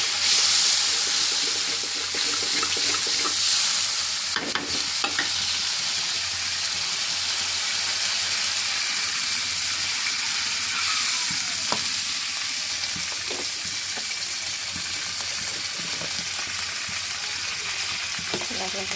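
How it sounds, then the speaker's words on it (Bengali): Steady frying sizzle and hiss from curry in a pan after water is added, with occasional scrapes and knocks of stirring throughout, close and continuous with no talk. "জল দিয়ে দেবো, নাড়া দিয়ে দেব"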